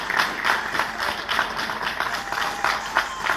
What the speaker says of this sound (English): we request we give another round of applause to Marshal Jula and General